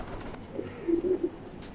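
Pigeons cooing in a loft where young birds have just been bathed, a few soft low coos close by over a quiet background.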